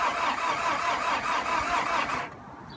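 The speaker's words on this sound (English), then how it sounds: "The starter motor worked, it turned over, but it just doesn't seem to quite have enough." A VW T4 engine cranks on a new starter motor without firing, a steady rhythmic churning whir lasting about two seconds before cutting out.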